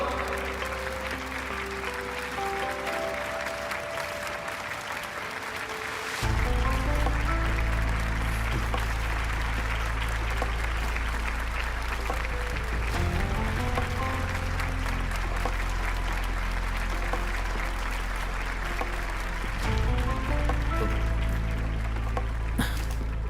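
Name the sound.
applause welcoming a hero in a drama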